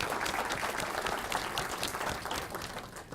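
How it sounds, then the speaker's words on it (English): An audience claps throughout at a 2014 INTEGRATE conference presentation, a sustained dense round of applause. "Can we give them a round of applause?"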